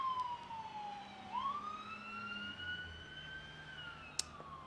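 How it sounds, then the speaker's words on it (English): A distant siren wails, its tone sliding down and then rising in a long sweep, with faint traffic rumble and a brief click near the end. "Sorry for the sirens."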